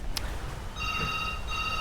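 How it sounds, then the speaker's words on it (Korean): A telephone rings at a guesthouse in Hua Hin, Thailand: a brief ringing tone starts partway through and repeats after a short gap, moderately loud over quiet room background, with no speech. "전화 받아"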